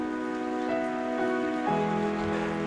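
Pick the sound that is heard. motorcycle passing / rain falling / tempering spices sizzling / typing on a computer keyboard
rain falling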